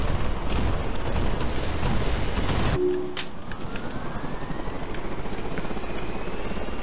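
A Razorbill rotary-wing helicopter in a video game, loud close rotor thrum and whine that drops in intensity partway through and then holds steady with a rising engine tone.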